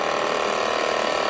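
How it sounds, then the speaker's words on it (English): A grinder works the sides of a Harley-Davidson shovelhead big-bore stroker motor part in a machine shop: a loud, continuous, steady rasping whine close to the microphone, with no talk. "Doing the grinding right now on the sides."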